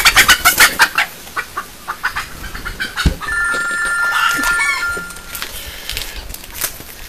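A hen clucks loudly and close by in a quick run of rhythmic clucks, followed by a short electronic phone-like trill and a few more scattered clucks.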